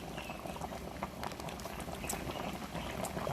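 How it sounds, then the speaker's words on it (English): A pot boils hard on the stove while ducunu (blue draws, tie-a-leaf) cooks, giving dense bubbling and popping at low volume with no talk. "boiling."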